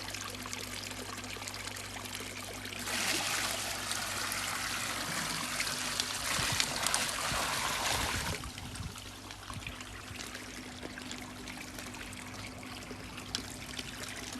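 Water from a bucket is tipped back into a garden pond, a loud rushing pour of several seconds that splashes and trickles before fading to quiet outdoor ambience.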